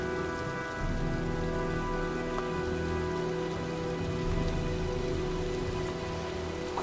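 Steady rain falling in the video game Heavy Rain, a dense even patter on surfaces mixed with a low ambient hum and faint tonal drones, continuous and without talking.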